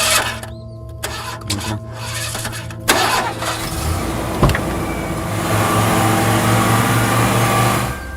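A car engine cranks with a rough stuttering whir for a few seconds, then catches and settles into a steady, fairly loud idle hum, with no talking.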